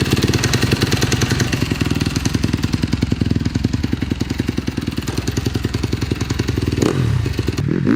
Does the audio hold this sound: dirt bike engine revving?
yes